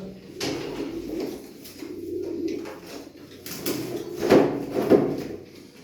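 Pigeons in a coop give low soft coos amid rustling and a couple of short knocks, with the murmur of the space around them.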